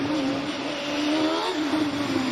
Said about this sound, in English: Again, Cosworth XD. Slight power oversteer out of S's. It's got masses of power